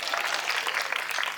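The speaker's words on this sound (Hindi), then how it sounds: "मूड फ्रेश होगा जरा तालियां बजाइए" An audience at a poetry recital claps steadily, a dense and lively wash of many hands that keeps going without a break.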